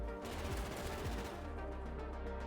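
Rapid automatic fire from a CBJ-MS submachine gun in Call of Duty: Ghosts, a continuous burst of close shots rattling for the first part and then trailing into quieter game noise.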